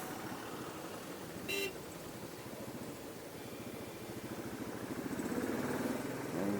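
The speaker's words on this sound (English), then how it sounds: "There's a massive traffic jam here on the highway itself." Highway traffic jam during a road trip near Bhubaneshwar, with a steady low engine rumble close by and one short car horn toot partway through.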